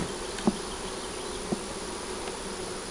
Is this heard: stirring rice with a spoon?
no